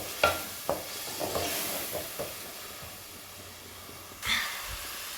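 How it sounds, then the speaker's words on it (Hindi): Masala fries in a pan for a ridge gourd (turai) sabzi, a soft steady sizzle under occasional scrapes and taps of a spoon stirring, with one brief louder hiss near the end. "ये मैं अच्छा सा मसाला भून लूँगी"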